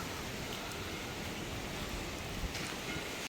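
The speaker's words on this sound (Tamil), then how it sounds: "மர மரங்களை பாருங்க எப்படி காற்று இங்கேயால இழுத்து கொண்டே இருக்குது" Strong storm wind sweeps steadily through palm trees, a dense, continuous roar with a few louder gusts rising near the end.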